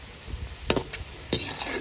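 A metal utensil scraping and clinking against a pot while frying oil is strained during homemade chicken biryani preparation, with two sharp close clinks and a few faint scrapes.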